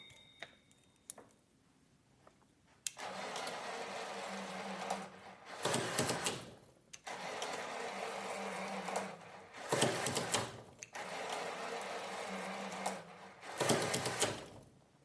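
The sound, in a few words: motor driving a linear slide under a 2 kg load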